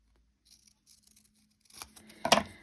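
Scissors cut through a piece of paper on a mini envelope, giving a few faint snips followed by a louder, sharp crisp cut near the end after quiet handling.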